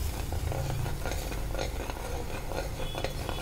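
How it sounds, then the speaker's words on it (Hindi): Masala gravy with curd being roasted and stirred in a pan for mater paneer, a close steady sizzle with a spoon scraping and knocking rhythmically against the pan. "चलिए इसे अच्छे से भूनते हैं"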